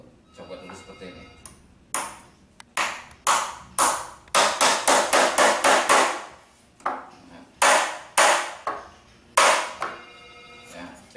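A hammer strikes a nail in quick series of sharp metallic knocks, some bursts rapid and some spaced, close and loud, with brief talk in between.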